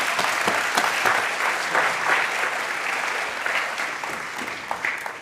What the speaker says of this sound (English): So I want to give all of them a round of applause